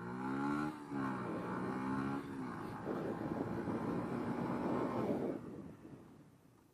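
Motorcycle engine revving up and shifting through the gears on a practice course with painted lines, a rising tone that dips and climbs again, fairly near, then fades away at the end.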